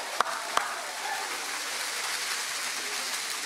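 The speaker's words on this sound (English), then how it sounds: "I'm going to get some more applause for our kids." An audience applauds a children's performance at an education awards event, a dense steady wash of clapping with a couple of sharp louder claps near the start, heard close and continuous.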